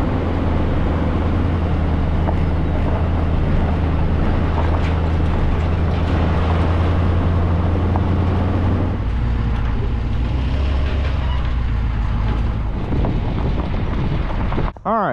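A pickup truck rolls along towing a gooseneck trailer on a Weigh-Safe gooseneck ball, with a steady low engine drone, road rumble and heavy wind buffeting the microphone, then the drone shifts lower partway through.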